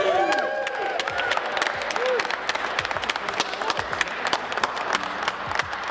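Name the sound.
big round of applause for a speaker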